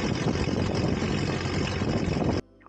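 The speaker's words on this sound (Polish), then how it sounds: "Dobra, to teraz sobie uruchomimy silnik." A small aircraft engine, started before taxi, roars loudly and steadily up close, then cuts out abruptly just before the end.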